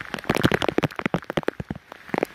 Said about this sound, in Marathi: धुवाधार पावसाला सुरुवात झालेली आहे